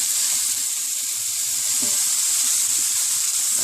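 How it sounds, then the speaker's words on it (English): A home cooking base sautés in a pan as a steady, close, even hiss that runs the whole time without breaks and with no voices over it. "we'll let that saute for a minute"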